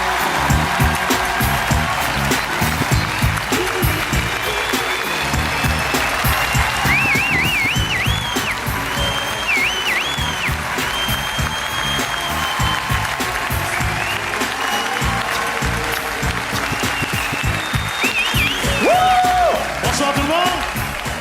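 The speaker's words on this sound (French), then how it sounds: "on applaudit bien fort Anthony Cavana." A comedy club audience gives loud, continuous applause for a comedian walking on stage, a dense crowd clapping close up with a few whistles and cheers mixed in.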